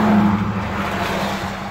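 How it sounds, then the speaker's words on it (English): Road traffic with a car passing by, a broad steady roar of tires and engine that swells slightly at the start and then holds, fairly near, with no voices. "lots of traffic"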